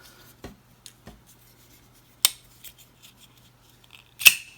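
A folding knife's blade is flicked open with the thumb, giving a few sharp, isolated clicks and snaps spaced across the quiet, the loudest coming near the end.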